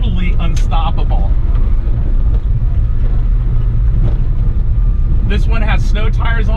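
A 1993 Suzuki Carry 4x4 kei mini truck on snow tires drives with a loud, constant engine and road rumble close by, while someone talks over it throughout.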